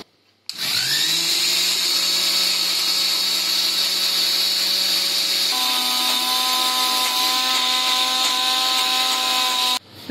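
A kitchen mixer grinder, loaded with coconut, water and mango for pachadi, whirs up after a brief silence into a loud, steady electric whine. Its pitch shifts partway through as the mixture loosens, then the motor cuts off abruptly.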